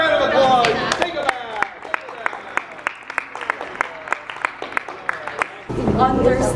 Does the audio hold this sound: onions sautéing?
no